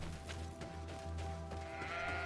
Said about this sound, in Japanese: すんげえ羊の鳴き声が聞こえた